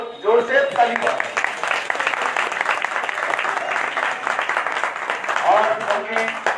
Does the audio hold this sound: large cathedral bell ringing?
no